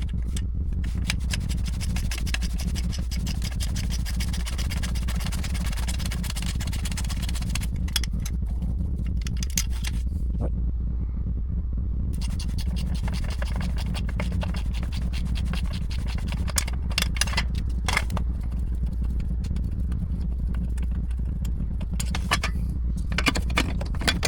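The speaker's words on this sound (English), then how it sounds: "So I got a small ratchet with the E4 on it." A small ratchet fitted with an E4 Torx socket loosens the two bolts holding a shield on a 2011-2017 Mercedes W212 E 350 with the M276 engine. Steady scraping and clicking runs throughout, close and fairly loud, with no talk.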